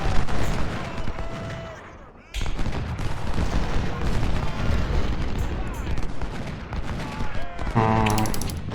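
Artillery and musket fire in Ultimate General: Civil War make a busy, loud battle din of overlapping booms and crackling volleys. There is a short lull partway through, and then the firing resumes. A voice is speaking underneath.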